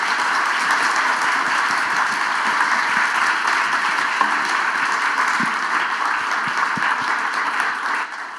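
Sustained, dense applause from a large audience at a trauma medical symposium fills the hall evenly for over eight seconds, a steady wash of many hands clapping that tapers slightly at the end.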